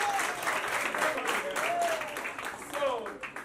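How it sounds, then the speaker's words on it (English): A group claps during a CPR and choking first aid awareness session, a dense ongoing patter of hands, while high-pitched voices call out over it. "Clap for mommy"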